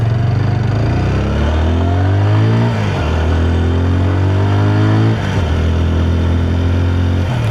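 A 2026 TVS Apache RTR 160 4V motorcycle is ridden hard, its engine loud and close as it revs up through the gears, with the pitch dropping at each shift.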